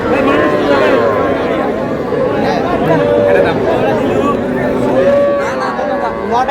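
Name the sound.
cattle, bulls and heifers at a farm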